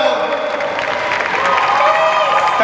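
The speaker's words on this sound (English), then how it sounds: "give her a great big round of applause for Belle." Audience applause and cheering at the Supanova 2016 cosplay contest in Sydney, a dense steady wash of clapping from a crowd, loud and continuous throughout.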